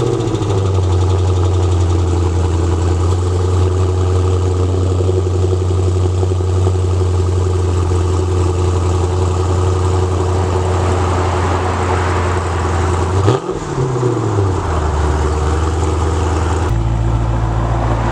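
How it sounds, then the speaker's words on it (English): 2018 Dodge Challenger R/T Scat Pack V8 on a cold start, a loud, steady idle rumble held close, then a brief blip and dip in revs before it settles back to idle. "So let's go ahead and jump to the cold start."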